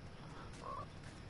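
A frog croaks in the Fortnite video game, a single short, quiet croak over low ambient game noise.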